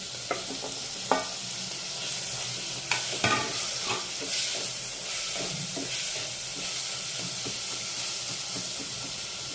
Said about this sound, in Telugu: నెక్స్ట్ ఒక టమాటా వేసుకొని ఫ్రై చేసుకుందాం.